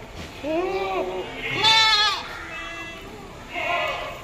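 Goats bleat at a crowded livestock market in Deonar, Mumbai, with several wavering calls in a row from nearby animals over a steady background murmur of people and activity.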